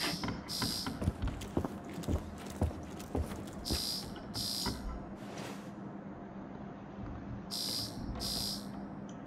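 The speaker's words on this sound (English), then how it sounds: "Just unlocked something, but the alarm's going off." An alarm goes off in the video game Paradise Lost: short, bright electronic bursts repeat at uneven intervals over a cluttered background of clanking and footstep-like knocks.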